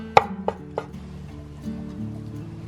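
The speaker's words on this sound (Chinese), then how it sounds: "提前15分钟泡的这种干香菇，我们切丝" A knife cuts soaked dried shiitake mushrooms into strips on a board, three sharp close chops in quick succession followed by quieter, softer cutting sounds.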